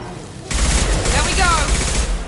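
Impact shot fired in a video game: a sudden loud blast with a crackling, sustained burst that rings on for about two seconds, with faint in-game voice alongside.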